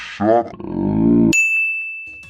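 A notification bell ding rings out as a single bright, sustained chime that rings on steadily after a short burst of synthetic sound, loud and close with no speech over it.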